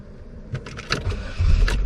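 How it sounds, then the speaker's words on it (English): A Chevy Cobalt starter cranks briefly before the engine catches and settles into a steady low idle, close up with no talking. "Get it fired up here and look at that."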